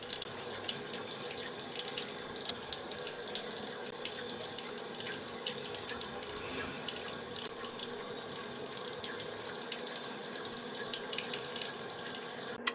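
Water from a bathroom tap runs steadily into a sink with irregular splashing as someone washes their face, continuous and fairly close for the whole stretch.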